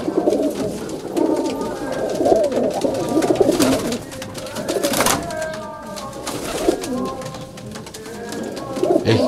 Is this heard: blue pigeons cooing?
yes